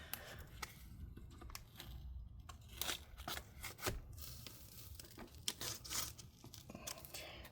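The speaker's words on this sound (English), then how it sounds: "So we're gonna have to cut this tape up." Adhesive tape being cut and peeled away during screen disassembly of a CyberPowerPC Fangbook MS-1763 laptop: close, quiet, irregular snips, tearing and crinkling bursts with short pauses, no talking.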